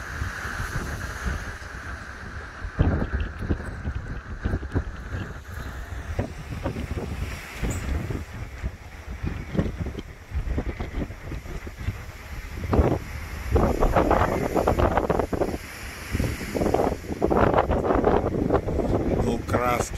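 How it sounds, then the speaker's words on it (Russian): Wind gusting across the microphone at sea in the Maldives, an uneven buffeting rush that swells louder toward the end, with water sounds and a voice talking now and then underneath. "Ветер неплохой."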